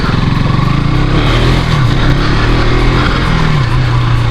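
A 2023 KTM RC 200 motorcycle engine runs loud and close, a steady buzzing drone with slight pitch shifts as it revs.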